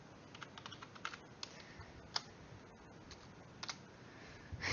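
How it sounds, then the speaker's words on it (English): Typing on a computer keyboard: scattered, irregular key clicks with a few sharper taps, fairly faint and steady over a soft background, no talking. "My typing is so bad,"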